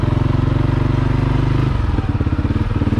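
A CFMOTO CForce 400 ATV engine revs up toward about 2200 RPM before the clutch engages, a loud, steady pulsing drone close by that drops in pitch partway through and keeps chugging, with no talking.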